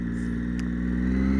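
Triumph Daytona 675 motorcycle engine running on a wet road, a steady low mechanical purr held evenly throughout the short moment.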